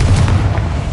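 A Confringo spell explosion in a video game booms as a loud, dense low rumble that fills the whole brief moment with no clear attack or decay.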